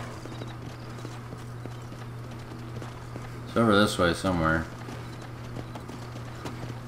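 Horse hooves clip-clopping steadily through Red Dead Redemption while riding off-road across hill country, a regular trotting rhythm throughout, with a voice briefly talking over it midway.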